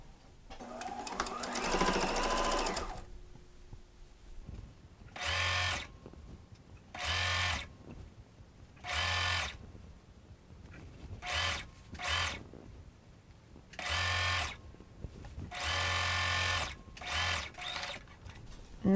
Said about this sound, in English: So fold it twice and sew a top stitch on the inside